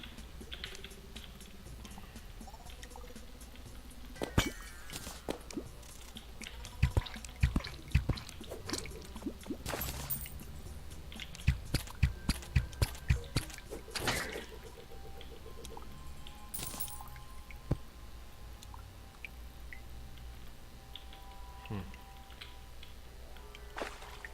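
Water drips in an underground cave in the video game Terraria: scattered, irregular, faint drips and patters mixed with keyboard clicks over low background hum.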